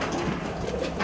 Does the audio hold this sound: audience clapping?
no